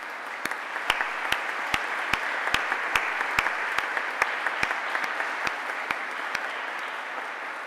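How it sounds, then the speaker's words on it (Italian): An audience applauds at a diocesan evening vigil for life in a church hall, a steady mid-level patter of many hands with a few sharper claps standing out, and no talking. "applauso per quello che hanno fatto."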